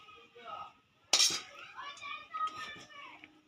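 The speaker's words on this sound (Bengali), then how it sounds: "তো এখন চাউমিনটা নামিয়ে দিচ্ছে।" Chow mein lifted off a pan with utensils, giving one sharp metallic clink and a few lighter scrapes and taps, under a person talking nearby.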